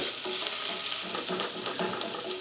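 Vegetables roast and caramelize in a hot pan for a demi-glace, giving a steady, close, continuous sizzle with occasional stirring scrapes. No one speaks.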